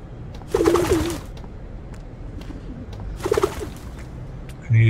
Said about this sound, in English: I'm going to scare all the pigeons.